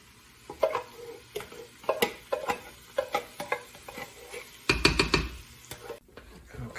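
Lasagna sauce being stirred in a pot makes irregular clinks, knocks and scrapes of a utensil against the pot, moderately close, with a louder clatter near the end and quiet talk in the background.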